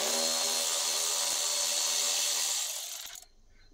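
A ratcheting socket wrench backs out a T25 screw holding trim on a 2019-or-later Mercedes Sprinter 907 van, a dense, rapid metallic clicking run up close for about three seconds, then stopping abruptly.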